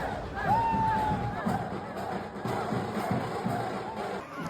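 A festival crowd at Holi in Pushkar, India, a steady babble of many voices and shouts surrounding the listener, with a brief whistle-like tone rising early on over the constant hubbub.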